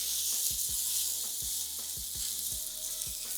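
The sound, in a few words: salmon searing in a pan, meat side down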